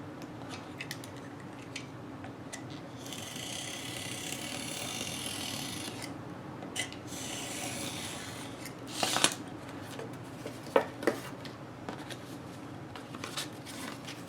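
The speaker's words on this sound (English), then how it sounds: "I will finish trimming this out to the size that I want it" A paper journal cover for an open-spine design, trimmed to size with scissors or a blade: soft rasping, rubbing cuts and shuffling paper handling, fairly quiet and close, with a few sharper snips and taps near the end.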